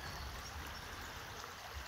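A creek flows in a steady, broad rush of running water, even and unbroken throughout, with no voices.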